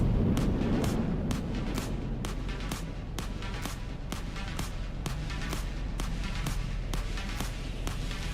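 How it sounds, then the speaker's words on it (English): Missile strikes in a video game produce a dense barrage of booming explosions and sharp cracks that come in rapid succession, with a loud, continuous rumble underneath, and no one talks. "Good missile strike there. Took all those missiles connected. Huge explosion."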